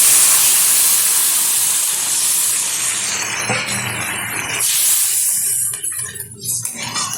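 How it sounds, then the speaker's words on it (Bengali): Water pours into a pan of masoor lentil dal cooking with kulekhara greens, giving a loud rushing hiss and sizzle that fades and breaks up toward the end. "এখন দিয়ে দেবো পরিমাণ মতো জল।"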